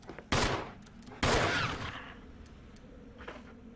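Two loud, close gunshots in the Resident Evil video game, each a sharp blast followed by a decaying echo, with a faint thud afterward.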